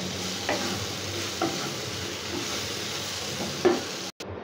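Potatoes and spices sizzle steadily in a pan over high to medium flame while a spoon stirs them in a few scraping strokes, close and alone without talk.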